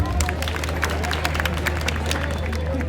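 Applause from a political rally audience in Delhi, a dense steady patter of many hands clapping close by, with crowd murmur underneath and a low constant hum.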